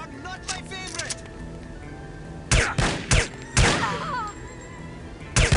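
Gunfire in the video game No One Lives Forever: several sharp shots and cracks in quick bursts, mixed with game sound effects and speech.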